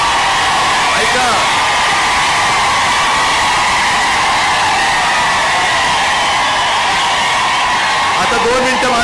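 A huge crowd at an Uddhav Thackeray political campaign rally in Dharashiv (Osmanabad) cheers in a loud, unbroken roar of yelling and whooping that fills the whole stretch with dense noise.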